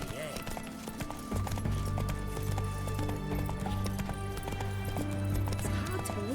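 Horse hooves clip-clopping at a steady ridden pace in The Witcher 3, rhythmic clear hoofbeats up close, layered with music and a voice talking.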